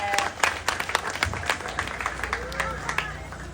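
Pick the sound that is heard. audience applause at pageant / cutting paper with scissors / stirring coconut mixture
audience applause at pageant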